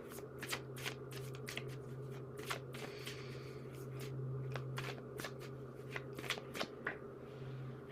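A deck of tarot cards is shuffled by hand in a quiet room, giving repeated crisp riffles and slaps in irregular bursts over a steady low hum.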